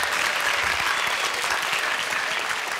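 Sustained audience applause follows a student science presentation at a youth science seminar, a steady dense clapping that stays loud and even throughout, with no talking over it.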